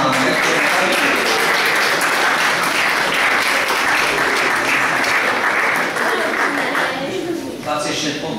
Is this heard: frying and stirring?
no